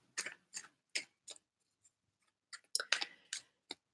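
Tarot cards being shuffled during a reading: soft riffling and tapping bursts in short irregular clusters, close and quiet, with brief pauses between and no talking.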